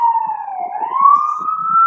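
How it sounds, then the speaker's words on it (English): A wailing emergency siren sweeps slowly down and back up in pitch, steady and fairly loud, with faint low rumbling beneath and no talking. "I'm just waiting for the sirens to go."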